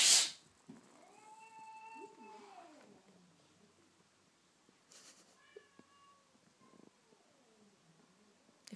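A cat meows repeatedly in long, drawn-out cries, the first loud and close, with quieter meows following and a soft purr running underneath.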